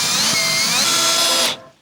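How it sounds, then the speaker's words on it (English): Power drill driving screws through wood into a sheet of plywood, a loud steady whirring whine that winds down and stops after a second and a half, with no talking. "Right now I'm drilling in these bits of wood into the sheet of plywood to make the framework for the walls."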